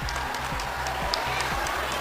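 A crowd at a Begusarai public event in Bihar applauds to welcome a government minister, dense continuous clapping under a steady low hum of a loudspeaker and crowd noise, fairly loud throughout.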